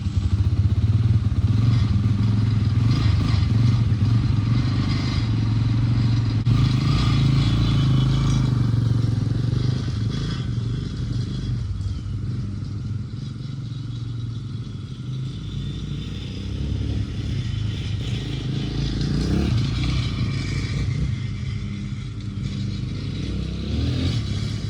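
A Honda Hawk 250 motorcycle, recently fitted with a throttle cable and not run for seven months, drones steadily close by with a loud low engine rumble and some clatter throughout, the pitch shifting slightly without sharp revs.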